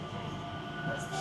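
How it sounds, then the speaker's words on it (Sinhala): A Skytrain at Singapore Changi Airport rolls past with a steady rumbling hum and faint wheel whine, while voices are faintly heard in the terminal. "තව ස්කයි ට්‍රේන් එකක් ආ පැත්තට මාරු වෙනවා."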